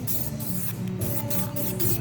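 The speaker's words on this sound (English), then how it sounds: "I hit it with a little spray paint to get the outline." Spray paint can hissing over a roof template to mark a sunroof outline on a single cab truck, close-up bursts of spray in quick repeated pulses with no talking.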